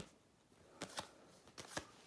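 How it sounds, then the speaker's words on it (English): Two quick riffle shuffles of a card deck for a spy-themed saboteur board game, each a brief crisp rippling burst close by, with a short pause between them and no talking. "And so we'll shuffle these up"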